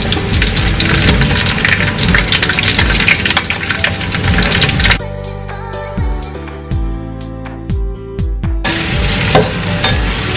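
Green chili peppers frying in hot oil for a bottled green chili sambal, a loud steady sizzle with stirring scrapes; the frying briefly quiets mid-clip into lower clattering tones before the dense sizzle returns, with no talk.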